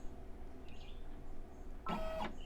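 A home embroidery machine stitching a stuffed toy gives a faint mechanical hum and a brief whir as its carrier shifts, then a louder motor burst near the end, all close by with no voices.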